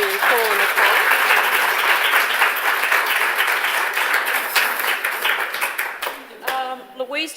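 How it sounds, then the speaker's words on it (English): Loud, sustained audience applause follows a talk on dietary fats and heart health, dense clapping filling the whole stretch and thinning slightly near the end, with a few voices audible through it. "Just a big round of applause to Paul and Nicole."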